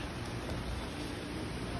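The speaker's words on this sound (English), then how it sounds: "you can see drops in the pool" Rain falling after months of dry weather, drops landing in an outdoor pool, a soft steady patter with wind, faint and even throughout.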